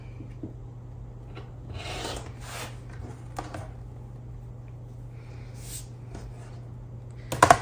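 Scissors or rotary cutter trimming fabric pieces for quilting, soft rasping cuts in a few short bursts over a low steady hum, with a few louder clicks near the end.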